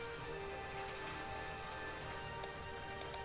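Rain in the video game Chained Echoes, a faint steady patter of light ticking drops that continues evenly throughout with no other sounds.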